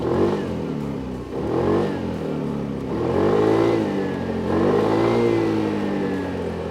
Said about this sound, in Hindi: अब 160 सीसी का स्कूटर है, लिक्विड कूल्ड इंजन है, मैक्सी स्कूटर है, फास्ट स्कूटर है, तो इसका एग्जॉस्ट नोट सुनना बनता है।